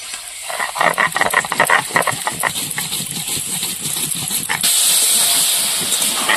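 Cauliflower sautéing in a pan for a home-style duck egg curry, a steady sizzling hiss with rapid crackles and stirring scrapes that swells into a louder, smoother sizzle near the end.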